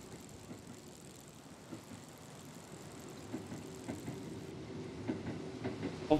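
A train rumbles past with low, steady mechanical noise that grows gradually louder toward the end, with faint rail clatter throughout and no voices.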